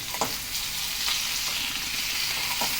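Tomato pieces, onion and tamarind sizzle and fry in an oily pan as they are stirred, giving a steady close crackle with a few soft scraping stirs.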